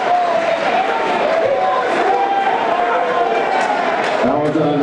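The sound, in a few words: basketball crowd air ball cheer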